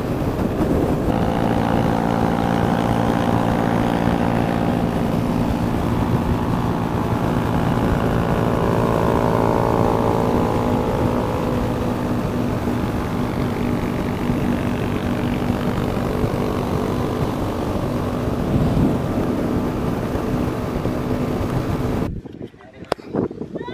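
Steady, loud wind buffeting and roar while riding a postie motorbike with no visor, a low engine drone running beneath it for about twenty-two seconds before it cuts out abruptly.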